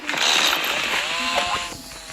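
A chainsaw in a video game buzzes loudly and steadily for the whole stretch, its whining engine pitch wavering up and down, with no talk.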